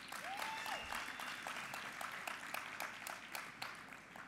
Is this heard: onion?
no